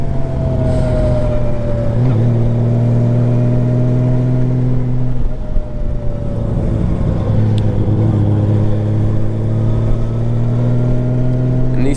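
A 1998 Honda Valkyrie motorcycle with a Gold Wing-derived flat-six engine runs close by, a steady loud mechanical drone with its pitch drifting slightly up and down as it is revved, no talking.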